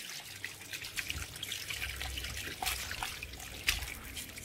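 Water trickles and splashes in a sink as raw beef is washed by hand before cooking for spinach soup, with soft dribbling and a few sharper splashes close by, no talking.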